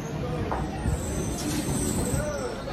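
A train pulls into Hooghly station amid a dense rumble of rail noise and crowd babble, with faint wheel squeals over the steady platform din.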